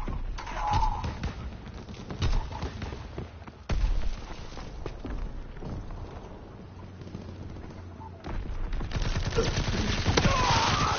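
Rapid gunfire bursts and thuds from an online first-person shooter video game, dense and continuous with louder spells near the start and end, under excited voices of players talking.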